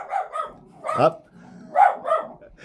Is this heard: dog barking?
yes